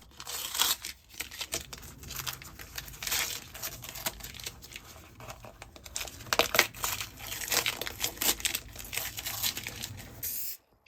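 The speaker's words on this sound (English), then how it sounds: "remove all the masking tape." Masking tape is peeled off freshly painted sneakers, making continuous close crinkling and tearing sounds with irregular bursts of rustle for about ten seconds.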